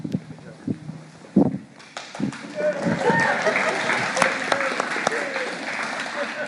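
Audience applause and laughter fill a room at a live speaking event, swelling from scattered claps into a steady, broad wash of clapping that carries on after a few short voiced bursts at the start.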